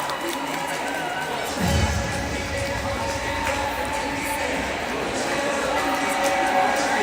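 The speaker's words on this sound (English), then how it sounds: "Big cheers from the stands." Fans in the stands at Murrayfield during a women's rugby league match keep up a steady roar of cheering and shouting, a continuous crowd wash with a brief louder swell early on.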